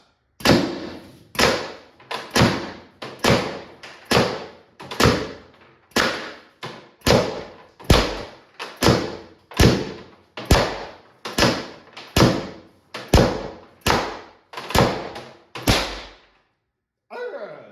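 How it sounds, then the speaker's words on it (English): Tippmann TiPX paintball marker running on HPA with a stock spool valve, bypassed regulator and 1000 psi output, its drum cycling through about twenty sharp, loud, evenly spaced shots over roughly sixteen seconds, each crack followed by a brief decaying hiss. "I'll turn the marker sideways so you can actually see this drum cycle, because it's pretty cool"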